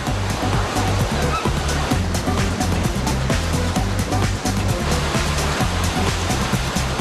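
Continuous rushing and splashing water from the Aquatopia boat ride at Tokyo DisneySea fills the clip, with a low steady hum underneath and scattered sharper splashes throughout.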